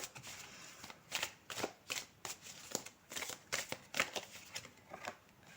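Dixit picture cards handled and shuffled by hand, a quick irregular series of soft riffling and snapping bursts, close but quiet, no talk.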